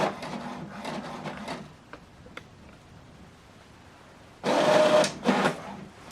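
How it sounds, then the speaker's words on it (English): HP Deskjet 2820e inkjet printer printing a document, with a mechanical whirring and rasping feed sound in bursts, a quieter stretch with small ticks, then a loud surge of paper-feed motion near the end. "So this document now is printing."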